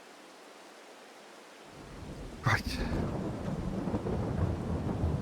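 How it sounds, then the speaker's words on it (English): Steady rain with a loud thunder crack and rumble in the Farming Simulator video game, the downpour starting abruptly and continuing under the roll of thunder, with a brief spoken word. "and it's raining again"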